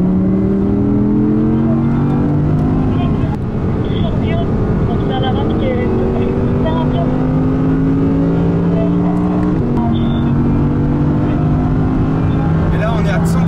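An Audi R8 accelerates hard around the Spa-Francorchamps circuit, its loud engine note rising through successive gears with a short shift drop, heard from inside the car under wind noise.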